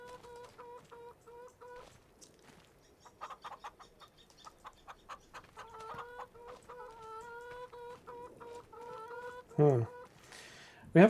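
Chickens cluck and squawk in a Farming Simulator 25 farmyard, with repeated short calls building into louder squawks near the end, moderately close.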